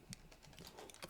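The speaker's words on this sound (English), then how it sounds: "I was literally just typing that up so I can copy paste it to you right now." Quiet, brief clicks of typing on a computer keyboard, a few scattered keystrokes close by with no talk.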